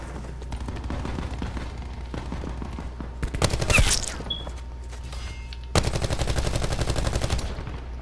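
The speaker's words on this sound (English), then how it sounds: "Wow, missed all my shots." Rifle gunshots from Call of Duty: Black Ops 4 multiplayer, a series of rapid cracking shots in quick bursts, one sharper burst with a ricochet ping near the middle, then a dense automatic string at the end.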